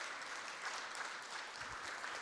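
Audience at a Korean Peninsula future symposium gives a steady round of applause, an even, fairly distant patter of many hands clapping with no voices over it.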